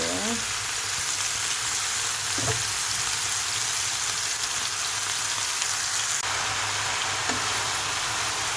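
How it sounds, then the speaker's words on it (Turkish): Oyster mushrooms sizzle steadily in a hot frying pan as they are stirred, a dense, even crackle holding throughout with a few soft scrapes of the spoon and faint voice traces beneath. "ilave ettiğimiz mantarları yavaş yavaş karıştıralım"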